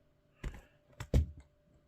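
A keyboard case drops off the back of a Samsung Galaxy Tab S9 Ultra with a few soft plastic knocks and clacks, close and quiet, the loudest thud near the end.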